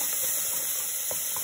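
Onion, carrot and garlic cloves frying in a pot, giving a steady bright sizzle with a few soft clicks of a utensil, close and continuous with nobody talking.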